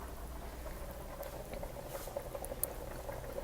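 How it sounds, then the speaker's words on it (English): Heavy cream simmers in a pot, producing a soft, steady bubbling patter with small pops, faint and close, with no voices. "our heavy cream started to simmer here"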